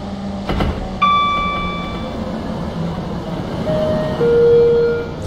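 A class 455 commuter train rolls into a station platform in a railway driving game, with a steady low rumble and a few brief tonal horn or chime notes over the running noise.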